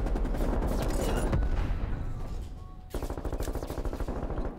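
Automatic gunfire in Black Ops Cold War during a hardpoint match, with loud sustained bursts at the start and a rapid, evenly spaced rattle of shots returning after a brief lull, with no talk.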